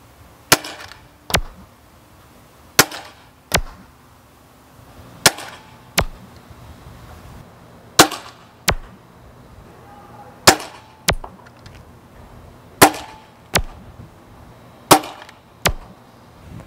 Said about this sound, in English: we're going to test the range by shooting at this garage